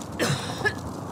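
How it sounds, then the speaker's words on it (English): A video game character coughs twice in quick succession, short rough bursts heard close and moderately loud in a multiplayer battle royale match. "He's coughing."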